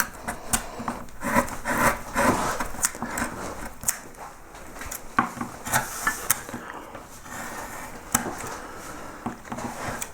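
Bent gouge cutting into a wooden yellow flag iris pierced relief, shaping a leaf and petal: repeated short scraping and rubbing strokes of steel through wood, close and fairly quiet, with no talking.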